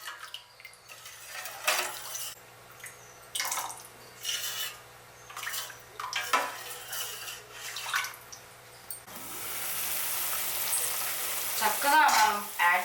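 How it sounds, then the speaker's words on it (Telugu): Chicken stock for biryani cooks in a pot, with bursts of stirring and pan clatter for several seconds, then a steadier bubbling hiss toward the end. "చక్కగా మనం యాడ్ చేసిన స్టాక్ అనేది మంచిగా మరుగుతుంది కదా"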